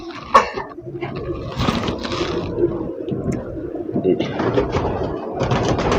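An ooda racing pigeon kept by a pigeon fancier gives close, intermittent coos mixed with brief rustling bursts, with no talk over it.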